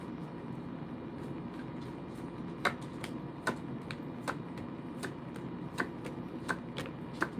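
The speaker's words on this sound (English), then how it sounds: "Let me pull some cards, see what's going on." Tarot cards being shuffled by hand, a soft continuous riffling rustle punctuated by crisp slaps and snaps at a steady, uneven rhythm, close by with no talk.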